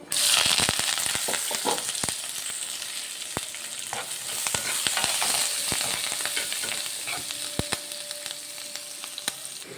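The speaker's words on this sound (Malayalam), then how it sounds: "പകുതി വറവാകുമ്പോൾ നമുക്ക് ഈ സബോള, പച്ചമുളക്, ഇഞ്ചി, കറിവേപ്പില ഇത്രയും ഇട്ട് വഴറ്റാം." Onion, green chilli, ginger and curry leaves sautéing in a pan for leftover idiyappam upma, a constant crackling sizzle with frequent sharp clicks and spatula taps, loud at the start and easing slightly, no speech.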